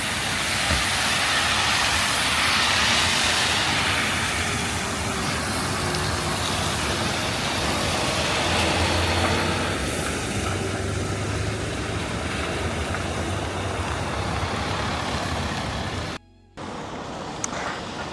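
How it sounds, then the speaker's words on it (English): Buses pass along a city road near the Oslo Opera House, making a loud, continuous roar of engines and tires that swells and fades over many seconds, then cuts out abruptly near the end. "Oh, the buses are coming, hold on."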